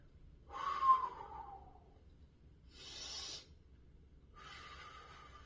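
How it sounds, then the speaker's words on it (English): A person holding a plank exercise breathes in three separate forceful exhales and sighs, close and fairly quiet, with short silent pauses between them. "Making sure I'm breathing."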